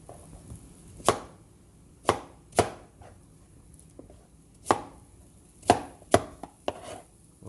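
A knife splits chayote (chocho) on a cutting board with about eight sharp, separate knocks at uneven intervals, close by in a quiet room.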